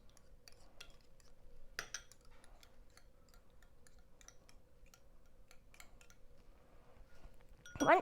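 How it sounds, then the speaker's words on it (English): Eggs beaten in a bowl with a fork or whisk give a steady run of faint, light clicks and clinks against the bowl, quiet and close, with a slightly louder clatter near the end. "You just crack an egg in the bowl and scramble it."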